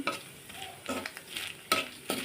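Chopped coconut frying in a pan for a chana dal dish, steady low sizzle with repeated stirring scrapes of a spatula, a couple of them sharper and louder.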